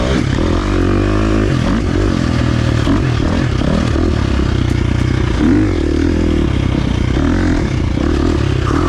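A 2023 KTM 350 XC-F dirt bike revs hard close by while being ridden, the engine note rising and dropping through a downshift, with clatter and wind buffeting.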